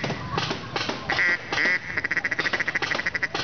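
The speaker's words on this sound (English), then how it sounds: "That's the time for your mallards." Mallard ducks at first light of dawn give a loud run of quacks, first scattered calls and then a quick rhythmic series of quacks, heard nearby and with no talk.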